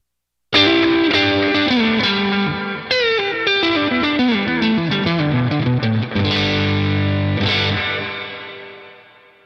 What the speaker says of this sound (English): Now I will route the delay before the reverb. This will be more focused and less washy.